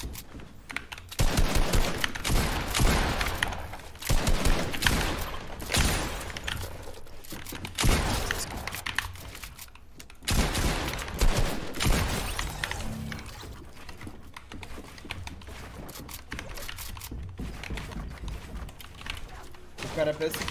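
Rapid bursts of gunfire in a Fortnite one-on-one match, loud and dense throughout with irregular volleys and sharp cracks, mixed with clicking keys and someone talking over the action.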